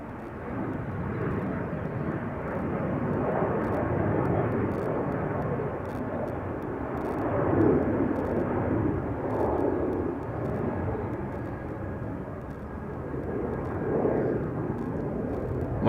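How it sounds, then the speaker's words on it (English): A KLM Boeing 737-800 bound for Bucharest takes off from Schiphol's Polderbaan, its engines making a steady broad roar that swells and fades over a continuous rumble, heard at some distance with murmurs of talk now and then. "KLM 737-800 to Bucharest,"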